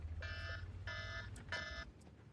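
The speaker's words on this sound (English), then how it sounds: "That's my alarm saying" An electronic alarm clock beeps in three short bursts at an even pace, quiet with a low hum underneath.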